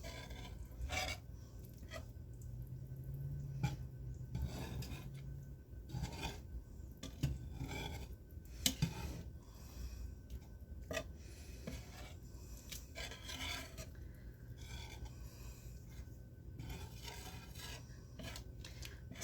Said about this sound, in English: Okay, let's give this a good mix.